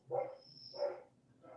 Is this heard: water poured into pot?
no